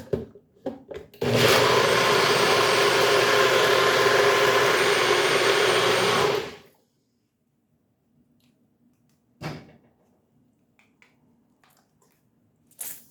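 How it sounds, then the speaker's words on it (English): A kitchen blender whirs loudly for about five seconds, blending pasta sauce with cheese, a steady close motor roar that cuts off abruptly, followed by a few faint clicks and a dull knock in otherwise quiet surroundings. "So I'm gonna be blending all of this,"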